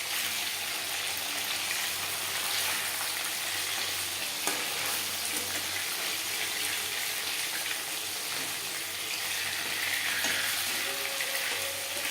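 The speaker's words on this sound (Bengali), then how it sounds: "মাছ এক পিঠ ভাজা হয়ে গেছে" Hilsa fish fries in a pan of hot oil, giving a steady close sizzle and crackle with a few small clicks from the pan, without any talking.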